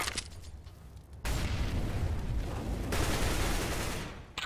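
Dense gunfire in a video game fight: a noisy clatter of shots and rumbling blasts that swells into two loud, sustained bursts, with no voices.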